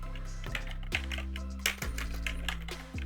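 Keys on a computer keyboard are pressed in a short run of distinct taps, including a Ctrl F shortcut, heard close over a steady electrical hum.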